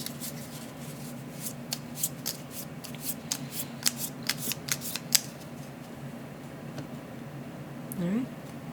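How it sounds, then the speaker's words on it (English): Board game cards and tiles are shuffled close by, a quick series of crisp riffling snaps and soft slides over a low background hum, then a short quiet handling rustle. "we'll shuffle these back into the Gary deck"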